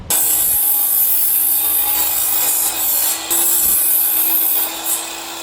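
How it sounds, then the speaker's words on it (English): A miter saw trims small wood pieces for a rifle rack with a loud, close, continuous grinding rasp that drops out briefly a few times between cuts. "actually gonna see if I can use the miter to clean these up really fast"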